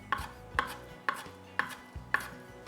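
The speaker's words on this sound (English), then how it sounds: "we chop the kimchi" A knife chops kimchi on a cutting board in a kitchen, six close, crisp knocks at an uneven, unhurried pace, each a sharp thud of blade on board, with no talk.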